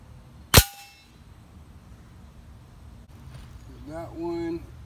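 A single pellet from a Daisy Powerline air rifle strikes a steel can with a sharp, loud crack and a short ringing decay, followed by quiet room tone and a voice speaking at the end.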